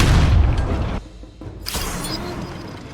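Bombardment units firing into a battlefield in Humankind, a deep booming blast followed by a short lull, then a bright crackling impact with rattling mechanical debris, loud and close.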